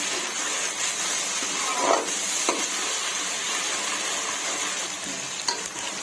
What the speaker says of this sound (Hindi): लहसुन अदरक डाल के इसको 2 मिनट के लिए इसको भून लें